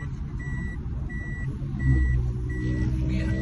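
A car's seatbelt warning alarm beeps regularly, repeating at a steady pace inside a running vehicle, high and clear over the low engine rumble, with no talking.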